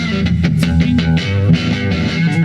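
A background music track in DaVinci Resolve plays at full, unducked volume: loud, continuous and rhythmic with punchy percussive hits, and no voice over it.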